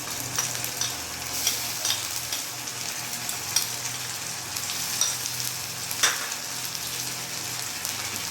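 Onions fry with ginger, garlic and chili paste being stirred in, a continuous close sizzle with scraping stirring strokes and occasional sharper crackles.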